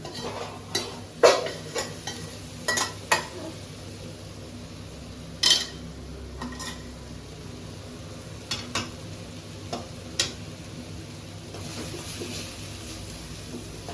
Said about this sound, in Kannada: ಆಮೇಲೆ ನಾನು ಈಗ ಫ್ರೈ ಮಾಡಿದ್ನಲ್ಲ ಅದನ್ನು ಮಿಕ್ಸ್ ಮಾಡ್ಕೊತೀನಿ.